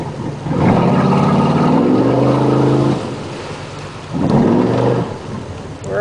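A propeller motorboat on the Snake River starts up and runs, a loud steady engine drone with two sustained surges separated by a brief dip, heard near and alone.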